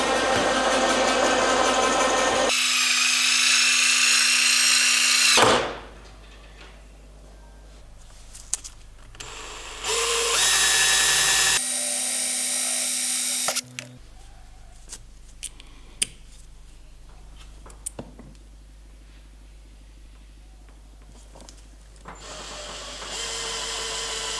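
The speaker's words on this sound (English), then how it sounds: "Drill and anchor our second one there." A power drill bores anchor holes for mounting a shoe holder on a rooftop tent, with two loud sustained whirring runs of a few seconds each, close up, separated by quieter handling clicks and knocks.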